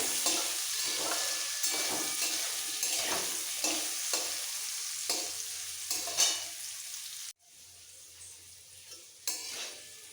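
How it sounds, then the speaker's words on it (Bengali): Potatoes fried in a pan with turmeric powder until reddish for a vegetarian flat-bean curry, giving a steady broadband sizzle broken by repeated stirring scrapes. The sound drops and turns quieter partway through, with no talking. "আলুটাকে একটু লাল করে ভেজে নিতে হবে"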